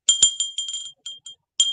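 An etched glass bell made in Romania rings in a handful of bright, close chiming strikes, each decaying briefly before short pauses, with a final ring after a longer gap.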